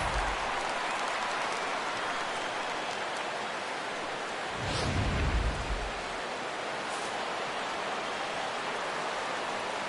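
A baseball stadium crowd rises on a full count, and a broad, steady wash of cheering and clapping swells briefly midway, heard from a distance with no talk over it.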